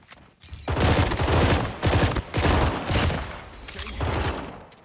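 Rapid pistol fire in the mobile shooter Call of Duty Mobile, loud repeated bursts of shots in several close volleys with brief gaps between them.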